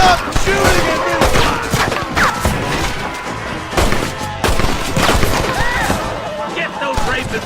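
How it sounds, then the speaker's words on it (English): Chaotic gunfire in a western film shootout, a loud volley of shots, thuds and crashes going on throughout beneath shouting men. "Stop shooting at me!"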